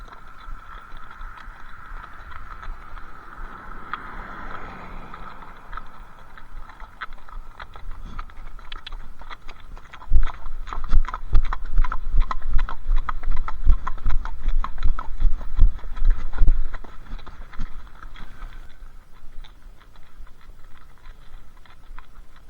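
Hollow clip-clopping horse hoofbeats on a packed, shady section of the Trans-Canada Trail grow louder for several seconds, a steady walking rhythm over a faint outdoor background.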